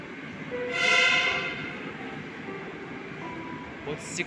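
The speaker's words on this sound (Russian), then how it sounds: "Нифига себе, поезд сигналит." A train in a metro station sounds its horn once, a loud harmonic blast that swells and fades over about a second, over rumbling rail noise and a brief later squeal.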